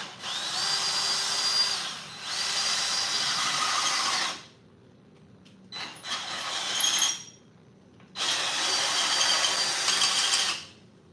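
A power drill boring a long 7/16-inch bolt hole, whining loudly in three sustained runs of a few seconds each with brief stops and a clatter between, close and without speech.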